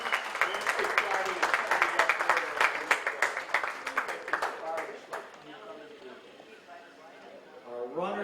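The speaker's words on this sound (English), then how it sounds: "How about another round of applause for both our teams up there on the podium." Crowd at a polo club clapping for both teams on the trophy podium, steady outdoor applause that thins out and fades midway, followed by someone talking over a loudspeaker.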